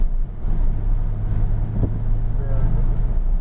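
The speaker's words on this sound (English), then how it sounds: "there's no sound like that flat six" Porsche 911 GT3 RS flat-six engine on a racetrack at Palm Beach, a steady low drone heard from the cabin with wind noise, continuous and moderately loud.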